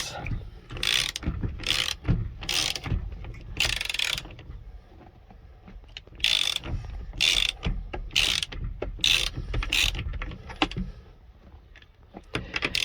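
A ratchet wrench fitted with a 24 mm socket works a bolt on an early-1990s bullnose Ford, sounding in repeated loud bursts of rapid clicking separated by short pauses.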